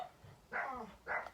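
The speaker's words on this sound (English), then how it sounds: "excuse my dogs" Dogs barking indoors, two short close yips about half a second apart, fairly quiet, with no talking.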